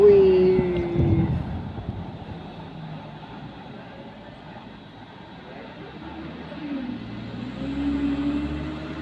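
Mitsubishi L300 pickup truck engine strains and revs while climbing a steep hill, a steady loud drone that dips in the middle and rises again toward the end, with faint voices nearby.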